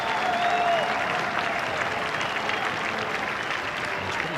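Cricket crowd applauding and cheering a boundary drive in a Pakistan vs India match, a dense, steady wash of clapping and crowd roar held at a constant level throughout, with a faint whistle near the start.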